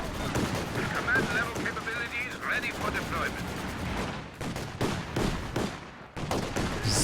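Dense, loud battle gunfire from the Company of Heroes 2 strategy game, a 1v1 match, with rapid machine-gun bursts and repeated shots over a constant din of combat noise.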